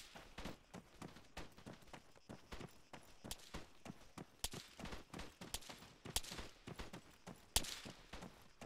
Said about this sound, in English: Is that friendlies firing off to the west here?